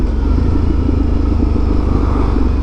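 A Ducati Multistrada 1260S motorcycle engine runs on the move, a loud, steady, close rumble with a low throbbing drone and constant wind noise, with no voices.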